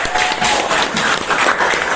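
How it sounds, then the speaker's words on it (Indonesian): Classroom of pupils applauding a classmate named Desti, a steady, fairly close wash of many hands clapping throughout, with little talk over it. "Tepuk tangan buat Desti."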